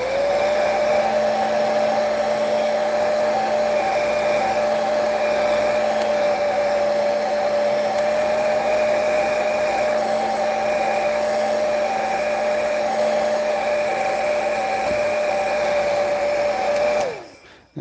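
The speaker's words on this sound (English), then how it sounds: "I will lock it in with this heat gun." A heat gun blows hot air onto rust texture paint on a model kit, a loud, steady whirring drone with a constant whine that runs unbroken before cutting off abruptly at the end.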